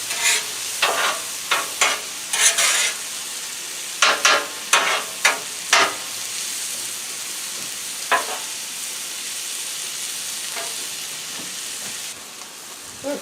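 Mushrooms cooking on a Blackstone griddle, a steady broad sizzle under a series of sharp scraping strokes from a spatula, bunched in bursts then sparse, close and fairly loud, no talking.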